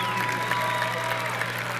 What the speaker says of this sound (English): let's have another huge round of applause for the Leander High School Marching Band graduating class of